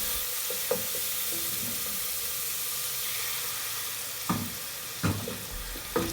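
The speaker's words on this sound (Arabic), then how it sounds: "المعلقه ديال المطيشه ديال الحك حتى هي نزيدوها ونشحروا مزيان" Tomato paste and spices sautéing in a pan for Moroccan eggplant zaalouk, a steady soft sizzle with a few sharp clicks of a spoon against the pan toward the end, no voices.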